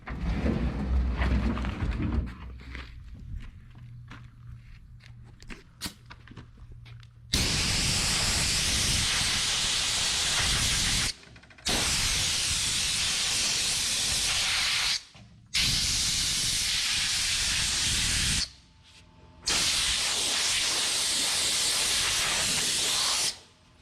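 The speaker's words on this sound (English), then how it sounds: "he's got the little blower thing so he can blow off the top of it" A small handheld air blower hisses loudly while cleaning off the top of a fuel sending unit on a 1974 Chevy Impala, running in three long steady bursts separated by brief pauses, after a quieter stretch of workshop noise.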